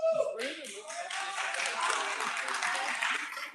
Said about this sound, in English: can we give another round of applause for Posse 8?